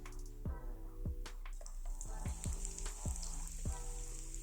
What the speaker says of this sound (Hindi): अब हम प्याज को इस प्रकार से चलाते हुए मीडियम आंच पर हल्का सा सॉफ्ट कर लेते हैं